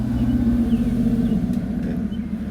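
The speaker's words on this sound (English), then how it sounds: "Oh, this traffic out here is kind of loud." Road traffic passing outside, a steady low engine rumble with a continuous droning hum, fairly loud and unbroken.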